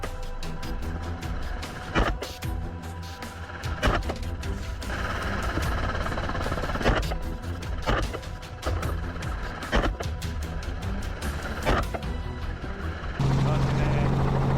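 A helicopter flies during a wild boar hunt, its rotor producing a loud rhythmic chop throughout, with a narrator talking over it.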